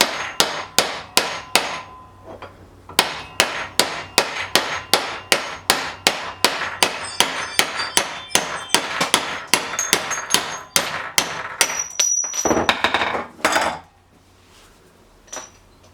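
Repeated metal hammer blows ring out against a bracket, a steady run of about thirty sharp clanging strikes at close range, ending with a brief scraping rattle and then quiet.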